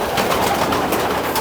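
Racing pigeons inside a loft coo in soft, overlapping throaty murmurs, close and steady, with a faint echo of the enclosed room.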